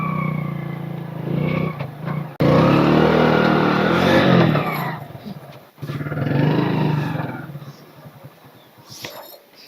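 A motor vehicle engine revs loudly in two strong surges close by, each swelling and then fading, with quieter stretches between them and near the end.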